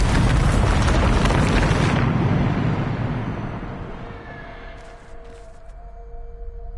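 A Bombarda spell explodes in Hogwarts Legacy with a loud, broad roaring blast that holds for about two seconds, then rumbles and fades into a quieter hum with faint chimes.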